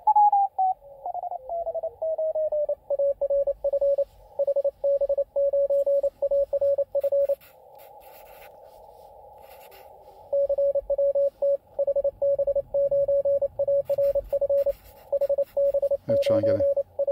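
Morse code CW signals on a ham radio receiver during a CWT mini contest: a clear steady tone keyed in rapid dots and dashes, broken by a stretch of hiss, then keying again and a brief burst of noise near the end.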